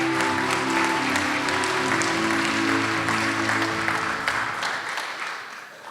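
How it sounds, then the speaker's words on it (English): A crowd applauds graduates at a leadership development program graduation ceremony, sustained dense clapping over a low held musical drone, gradually thinning and fading toward the end. "Let's give our graduates a round of applause."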